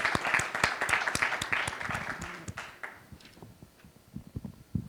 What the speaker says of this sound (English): So I want to give you a round of applause for that.